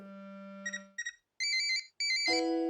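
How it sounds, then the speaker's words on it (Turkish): A cartoon phone rings with a bright electronic melody: a held low tone, then quick chirping bursts and rising high notes, clear and close with no voices. "Şimdi de annemi arıyorlar. Telefonu ona götüreyim."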